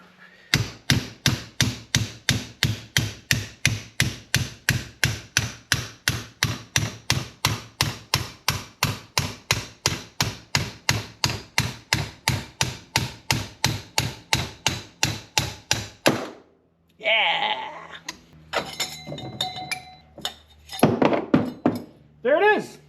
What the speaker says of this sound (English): We're gonna get a hammer and hopefully knock that right through.